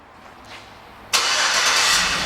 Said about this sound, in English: It also has remote start, and let me demonstrate that for you.